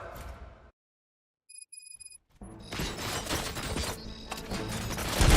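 Gunfire in the video game Robocop: Rogue City, a dense, loud burst of shots and crashing impacts that starts after a brief silence and keeps building to the end.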